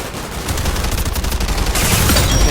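Gunfire in a shooter video game, dense rapid shots cracking continuously around the player, loud and close, growing heavier toward the end.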